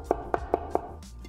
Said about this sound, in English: My dad gets a pretty fine mince here by chopping the garlic at multiple angles.